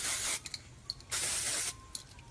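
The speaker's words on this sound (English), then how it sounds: "this is like a dry texture spray" Dry texture spray misted onto lifted sections of hair in two short bursts, a close, bright hiss with soft rubbing and handling noises between sprays.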